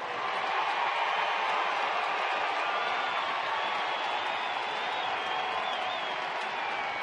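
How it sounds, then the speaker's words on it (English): Steady crowd noise at Angel Stadium during a baseball game, a polite round of applause mixed with a scattering of boos, broad and continuous from the stands. "A polite round of applause here at the Big A. Some smattering of boos."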